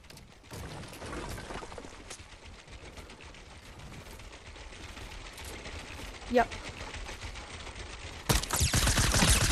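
Gunshots ring out in a video game with silenced weapons: a few sharp isolated shots early on, then a denser burst of fire near the end, over steady background game noise while a person talks.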